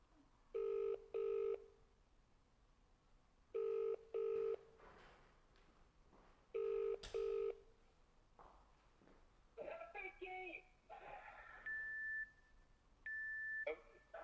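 An outgoing telephone call rings back in paired tones, three double rings spaced a few seconds apart, then a connection with faint beeps and brief talk over the phone line.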